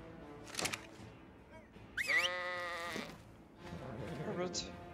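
A sheep bleats in a Lord of the Rings roleplay video game, one clear wavering cry in the middle, with other faint animal sounds and people talking around it.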